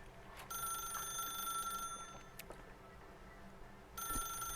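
Telephone ringing in The Stanley Parable Ultra Deluxe video game, a steady electronic ring that sounds in two bursts with a short gap between them, moderately loud over a quiet room tone.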